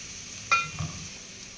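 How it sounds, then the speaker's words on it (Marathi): Mutton trotters dropped into sizzling masala in a pan, a single clattering thud followed by a short burst of frying hiss, close and brief with no talk. "आता आपण याच्यात पाय मिक्स करणार आहोत तर पाय टाकतोय आपण"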